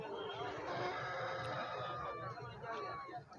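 A red-black rooster with dark legs crows amid a busy animal market, a drawn-out call partly buried in dense crowd noise and babble, close and steady.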